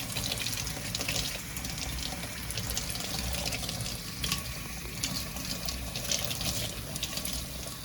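Tap water runs steadily into a sink while a pet water fountain filter is soaked, a continuous close splashing hiss with faint rattles, and no one speaks.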